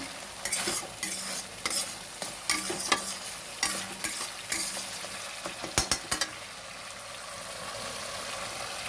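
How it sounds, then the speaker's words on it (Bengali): Green chillies fry in a pan of prawn malaikari, loud sizzling broken by repeated scraping strokes of a spatula for several seconds, then a steadier hiss of frying alone. "এর মধ্যে আমি আরও 3টে কাঁচা লঙ্কা দিয়ে দিলাম।"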